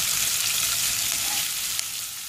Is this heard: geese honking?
no